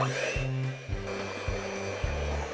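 An electric mixer whips butter for peanut nougat in a baker's kitchen, a steady loud motor whine that drops and restarts in regular pulses about every half second, with no voices.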